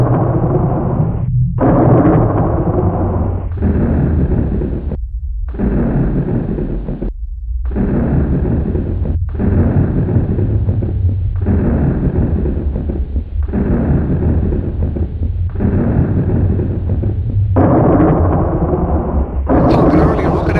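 Loud, heavy thunder rolls and rumbles from a summer lightning storm in Western Pennsylvania in 2007, in long sustained bursts separated by abrupt short silences.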